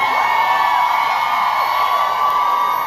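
Large live audience at a performance cheering and whooping in a sustained, loud roar that fills the space without a break.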